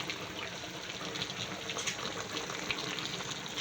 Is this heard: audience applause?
no